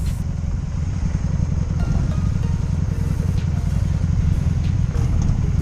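A 2002 Honda Magna VF750C motorcycle engine idles in neutral, a close, steady low throbbing rumble that stays even and smooth for the whole stretch with no talking.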